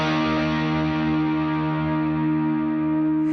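Electric guitar played through stacked overdrive pedals with heavy chorus rings out as a sustained, thick distorted chord, loud and steady with no talk.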